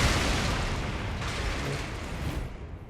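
An explosion in the video game Elden Ring, set in Stormveil Castle: a loud, dense rumbling blast that roars steadily for about three seconds before cutting off abruptly, with no talking.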